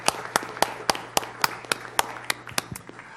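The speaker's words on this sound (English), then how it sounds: "Let's give them a round of applause for the work that they're doing here today." Sparse applause for custodial workers at a school campus event, about a dozen sharp claps in an uneven rhythm over a low steady hum, sounding like only a few people clapping.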